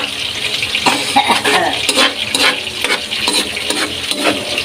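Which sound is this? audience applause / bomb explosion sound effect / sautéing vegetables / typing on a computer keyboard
sautéing vegetables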